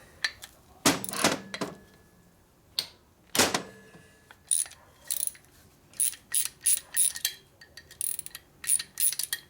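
Torque wrench ratcheting on a Harley-Davidson CVO Twin Cam Dyna motor during a rebuild: irregular bursts of quick, close mechanical clicks separated by short pauses.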